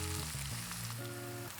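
Chopped onions and curry leaves sauté in hot oil with a loud, dense, continuous sizzle, close and steady throughout the short stretch, with no voices.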